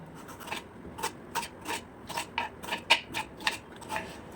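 A knife cuts tomatoes into small pieces for spicy Tamil tomato thokku, giving a quiet, steady series of soft chopping taps against a board, roughly two or three per second.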